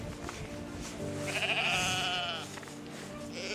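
Sheep bleat near a sheepfold in the village of Viðareiði, Viðoy, Faroe Islands: one clear, wavering bleat from nearby rises over a steady outdoor background with wind.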